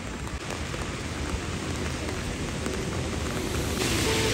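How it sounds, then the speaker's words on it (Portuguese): Steady rain pouring down in Paris, a dense, even hiss of drops on surfaces that holds at constant strength from start to finish and brightens slightly near the end, with no talking. "E a chuva não vai parar não"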